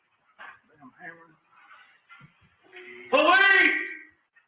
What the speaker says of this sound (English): I hear a dog howling.